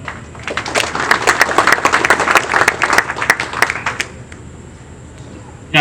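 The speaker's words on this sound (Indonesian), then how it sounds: "Ini ada yang tepuk tangan." An audience of Lanny Jaya university students breaks into dense clapping that builds for about four seconds, then thins out to a few scattered claps and room noise.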